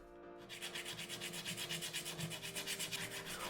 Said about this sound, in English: I found this sanding block in the kit that I thought might help even it out.